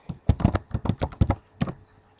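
Typing on a computer keyboard: a run of about a dozen crisp, irregular key taps in quick bursts, close and clear, trailing off into quiet.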